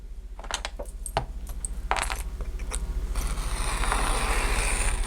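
A paper trimmer slices through planner paper with small clicks and a scraping slide of the blade, followed by a rising rustle and friction sound as the cut runs through, close and fairly quiet.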